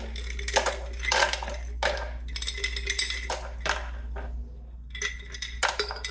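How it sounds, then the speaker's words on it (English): Ice cubes clatter and crunch as they tumble into a blender jar for a strawberry cream milkshake, a series of close, bright rattling bursts over a steady low electrical hum. "Now I want to add 10 ounces of ice."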